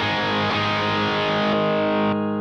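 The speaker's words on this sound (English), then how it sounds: "I'm gonna stack that with the emissary. It gets really noisy." Electric guitar run through a JHS Super Bowl fuzz stacked with an Emissary overdrive, a loud, dense, heavily saturated sustained chord that rings steadily, then the high end drops away near the close with no voices.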